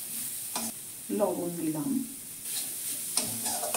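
Spices and cauliflower fry in a pan with chaat masala, a soft sizzle broken by a few scraping stirs while a voice speaks briefly.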